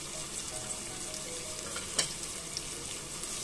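Coriander powder fries and is stirred in a pan for a Kerala village-style coconut fish curry, a steady close sizzle with a faint scrape partway through and no talk.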